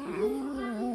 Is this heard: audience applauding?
no